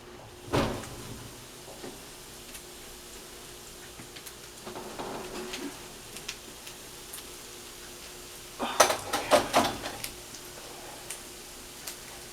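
An oven door opening and a baking pan of cheesy bacon chicken tenders being pulled out in a home kitchen: a soft thump early on, then a burst of clattering metal knocks near the end, quiet with no talk.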